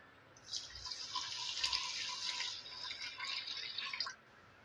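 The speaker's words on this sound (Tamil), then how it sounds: "இதை இப்போ நம்ம கழுவிட்டு ஒரு 10 நிமிஷம் நம்ம ஊற வச்சு எடுத்துக்கிறலாம்" Seeraga samba rice being washed in water, a soft steady sloshing and trickling of water that swells and fades over several seconds, fairly quiet and close.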